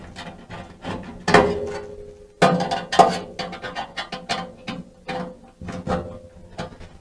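Metal parts clanking and bolts being hand-threaded and ratcheted tight while a Blaze Kamado grill cart is put together, with irregular close clicks and knocks in short bursts.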